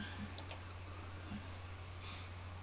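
Two quick, sharp computer mouse clicks close together near the start, over a steady low electrical hum in a quiet room.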